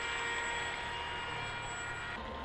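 Blunt-nose Teksumo model plane flying at half throttle, a steady continuous motor drone with a high whine, sustained and fairly even in level throughout with no talk.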